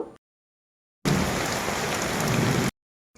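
Rain pours down steadily during outdoor cooking, a dense, loud hiss lasting under two seconds, with near silence before and after.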